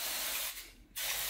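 Water mist from a spray bottle is sprayed onto the lid of a mushroom fruiting tub: a close, steady hiss that breaks off briefly in the middle, then resumes.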